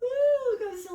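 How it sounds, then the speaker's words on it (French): A person gives a voiced yawn during a stretching and hip and spine mobility session: a single drawn-out, gently falling tone lasting about a second, close and clear. "On peut bailler."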